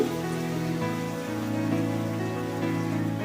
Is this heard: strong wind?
no